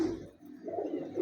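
An old breeder pigeon gives a soft, low coo at close range, in a short quiet phrase.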